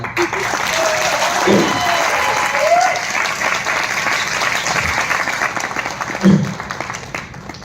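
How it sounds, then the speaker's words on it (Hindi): Audience members at a motivational training seminar clap together in a steady, moderately loud patter, while a voice briefly speaks over the applause. "ताली बजाते हो तो बजा लो यार।"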